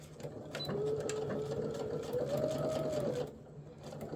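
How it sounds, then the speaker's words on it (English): A sewing machine back stitches along a line of fabric during foundation paper piecing, a steady close mechanical whirring hum running for about two and a half seconds before stopping, with a faint voice around it. "we're going to start back stitch and then stop at the end of that line"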